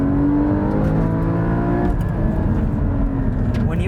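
Porsche GT4 mid-engine sports car accelerating hard, a loud close-up engine drone with rising harmonics that climbs steadily, holds briefly and climbs again, continuous throughout with no pause.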